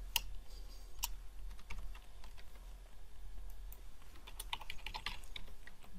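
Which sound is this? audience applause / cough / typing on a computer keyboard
typing on a computer keyboard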